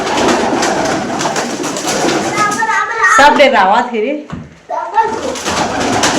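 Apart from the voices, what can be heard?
pigeons cooing in a room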